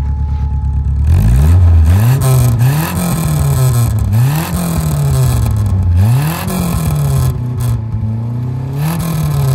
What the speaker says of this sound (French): le silencieux, alors c'est un silencieux d'origine, mais il est un peu en fin de vie